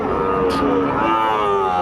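A Sahiwal cow moos in a long, loud, low drawn-out call, close by, with steady background noise.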